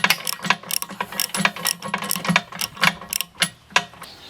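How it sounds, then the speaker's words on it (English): Shifter wrench tightening nuts on support legs, a quick series of sharp metallic clicks and ratcheting ticks in an irregular rhythm, close and fairly quiet. "Now we just use a shifter"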